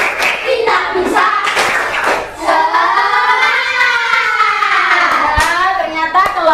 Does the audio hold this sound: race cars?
no